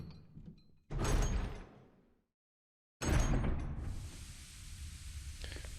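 A door opens with a heavy thud and clatter inside the game Resident Evil HD Remastered, followed after a short silence by a second loud burst and a sustained hissing, echoing ambience.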